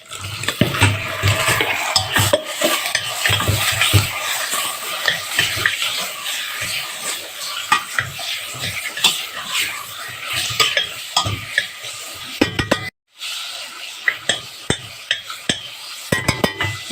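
Chicken pieces go into a pan of garlic and fry with a steady sizzle, while a utensil scrapes and knocks against the pan at close range.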